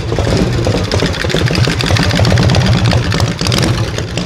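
A motorcycle engine idling close by, giving a loud, steady low chugging rumble with an even beat throughout, with no voices over it.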